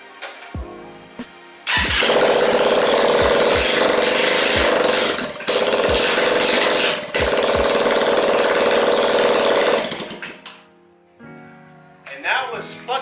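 A Honda Helix scooter fitted with a new exhaust runs close and loud for about eight seconds, a harsh, steady drone with a few brief dips, then cuts off to near silence.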